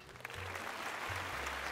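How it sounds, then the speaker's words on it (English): A small audience gives a brief burst of applause, quiet and a little distant, lasting under two seconds with no talking over it. "Round of applause."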